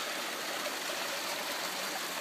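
Water rushes steadily through a homemade 48-inch highbanker for gold prospecting, fed by bilge pumps of up to 2,200 gallons an hour, a constant hissing stream without pauses or speech.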